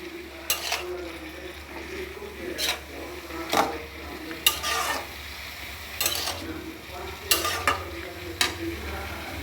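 Ash gourd pieces are being stirred as they fry in a pan, with a faint sizzle underneath and about eight sharp spatula scrapes and clacks against the metal, arriving in uneven bursts, close and fairly loud.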